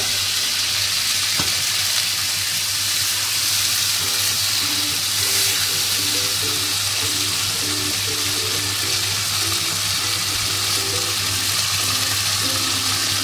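Ground spice paste hits hot oil for dhokar dalna, a Bengali dish, giving a loud, continuous sizzle close up. It holds steady throughout over a low background hum, with no talking.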